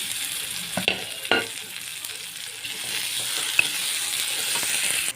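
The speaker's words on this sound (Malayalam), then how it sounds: "പിന്നെ ഉള്ളിയും പച്ചമുളകൊക്കെ ഇട്ടു തക്കാളി ഇട്ടു ഇതൊക്കെ നന്നായിട്ടൊന്ന് വാടി ചേർക്കാം" Onions, green chillies and tomato are sautéed in a pan for a chicken dish with cumin and fenugreek, giving a steady high sizzle. A spoon scrapes and knocks against the pan a few times early on, close by, with no talking.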